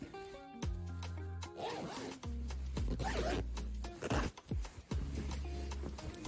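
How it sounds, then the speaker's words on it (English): Clothing zipper being pulled closed after a patch is hand-sewn on, several short rasping zip strokes in quick succession, close and clear with no talk. "we'll just zip this back up."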